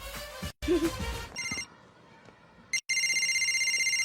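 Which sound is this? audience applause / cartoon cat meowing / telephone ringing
telephone ringing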